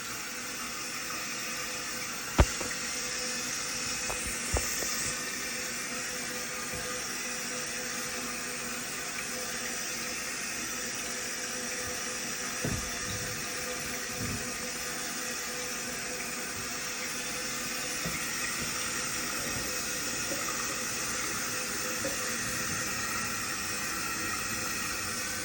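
A toilet tank refills with water after a toilet replacement, a steady hissing rush of water that runs on without a break, with a few faint knocks and clicks.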